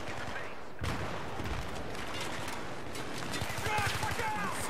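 Dense gunfire in the video game Battlefield 3 during a Rush attack on the Markaz map, a continuous fusillade of rapid shots with game sounds throughout.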